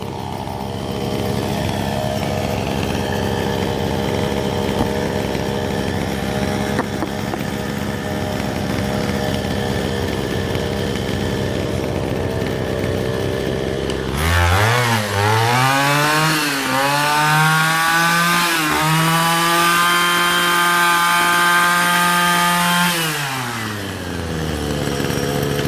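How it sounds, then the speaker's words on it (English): Two small two-stroke string trimmers (weed wackers) running on 200:1 fuel mix, first droning at a steady high idle, then sharply revved to a loud rising whine with fluctuating pitch before dropping back, with no talk. "Let's rev them up and see how they sound."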